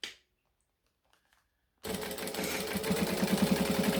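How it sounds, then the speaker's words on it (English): A sewing machine runs a top stitch at a long stitch length along the edge of a fabric bangle piece, a fast steady rhythmic whir that starts abruptly after near silence and continues loud and close. "I'm going to top stitch."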